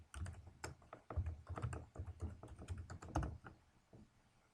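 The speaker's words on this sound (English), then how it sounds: "I'll type in my username again." Keys clatter on a computer keyboard as a username is typed, a close burst of quick, irregular clicks that tapers off near the end, with no voices.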